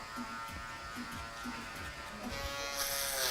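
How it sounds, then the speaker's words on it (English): An electric shaver buzzes steadily up close during a barbershop fade, its hum pulsing in short passes against the head before growing brighter and louder near the end. "I'm going to use the shaver"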